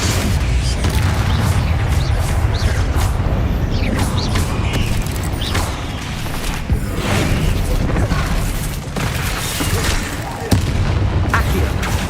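Bombarda and Confringo explosion spells go off in Hogwarts Legacy, a dense run of booms, blasts and crackling impacts filling the whole stretch at steady loudness, with a voice calling out over the din.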